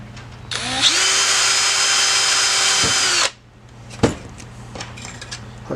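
A power drill bores a hole in a sensor bracket for a Sonex aircraft, one loud steady whine of about three seconds that winds up and stops, followed by a few sharp clicks and light handling noises.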